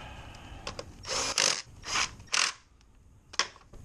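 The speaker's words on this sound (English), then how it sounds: "Tighten the hose clamp." A hose clamp is tightened on the intake snorkel of a 2007-2013 R56 MINI Cooper non-S. Several short ratcheting bursts come close up against a quiet background, with no speech.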